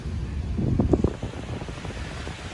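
Wind gusting across the microphone at Manila Bay's Dolomite Beach during a drizzly dragon boat competition, a loud rumbling buffet that swells briefly near the start and then settles into a steadier blustery roar.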